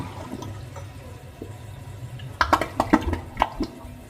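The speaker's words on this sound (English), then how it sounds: "Here we go, flushing the toilets, downstairs toilet." Downstairs household toilet flushing while partly clogged: a low watery rush that builds into a burst of sharp gurgles and splashes in the second half, fairly close and with no talking.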